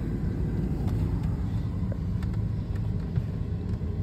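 A vehicle with a racecar chassis on a trailer idles and rumbles steadily while backing the trailer into a tight spot, a low continuous engine drone close by.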